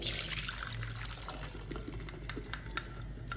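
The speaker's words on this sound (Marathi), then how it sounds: "आता एका चाळणीत मी डाळ वेळून घेणार आहे" Cooked lentils being drained through a sieve give a soft, steady trickle and patter of liquid with faint wet clinks, moderately close and quiet.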